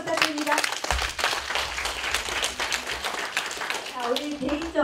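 An audience at a community cultural talk on dentistry claps for the dentist speaker, steady close applause running throughout while voices talk over it.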